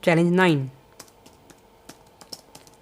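Keys clatter sparsely on a computer keyboard while code is typed into the VS Code editor. A short spoken voice comes first, then isolated, crisp clicks land at uneven intervals.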